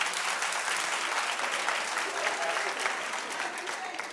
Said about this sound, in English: Clap if you don't play the lottery.